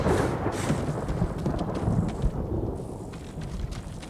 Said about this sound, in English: The thunderstorm is only making this more ominous.